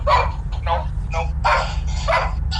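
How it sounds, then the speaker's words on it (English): A dog barks in a quick run of about five sharp, close barks with a steady low hum underneath, recorded indoors. "Yeah, the dog barking."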